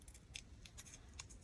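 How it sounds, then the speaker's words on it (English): Scissors snip paper scraps left around a stamp in a junk journal, with several quick, quiet, close cuts at an uneven rhythm. "I can maybe cut it with my scissors"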